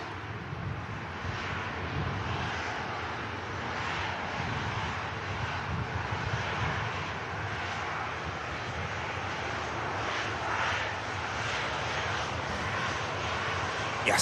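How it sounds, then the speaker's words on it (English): A Qatar Airways Airbus A350 departs from Manchester Airport, its jet engines producing a steady, broad roar that holds at constant loudness throughout. "we've just got a glimpse of the stunning Qatar Airways 350."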